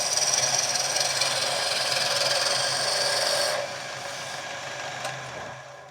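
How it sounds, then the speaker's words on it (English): A skew chisel cuts scrap hardwood spinning on a lathe, giving a continuous close rasping shear that drops abruptly in strength partway through, leaving a softer whir before fading, with no talking. "I grab a skew and I just make it nice and neat as a parallel cylinder"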